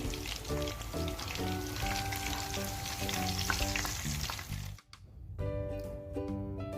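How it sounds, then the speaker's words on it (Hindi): Chicken pieces for crispy chicken pakora fry in hot oil, a steady close bubbling sizzle that dips briefly near the end and then resumes, with no talking. "दूसरे पीस जो है ना वो भी आपने ऐसे ही फ्राई करनी है, गोल्डन गोल्डन करनी है आपने।"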